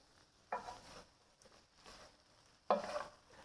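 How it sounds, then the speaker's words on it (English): Cabbage and egg stir fry being tossed in a pan, two distinct stirring scrapes with soft sizzling between them, quiet and close, no talking. "let's stir everything up"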